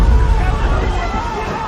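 A crowd of passengers aboard the sinking Lusitania in 1915 makes a loud, dense babble of overlapping voices over a rumbling low background, with no single speaker standing out.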